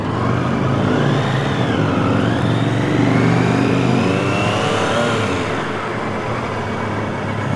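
Engine of a 2022 Triumph Tiger Sport 660 motorcycle fitted with a shift assist, revving steadily and rising and falling in pitch through a gear change, loud and close with constant road and wind noise and no talk.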